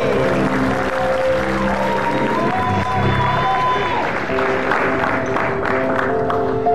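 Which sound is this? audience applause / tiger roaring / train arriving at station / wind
audience applause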